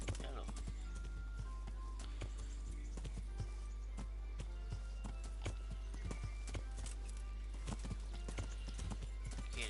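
Horse hooves clip-clopping in the medieval video game Kingdom Come, a rapid run of sharp irregular knocks over a low steady hum, with someone talking over it.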